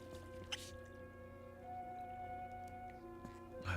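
Water running faintly with a few distinct drips and splashes, close and quiet against a steady background hum.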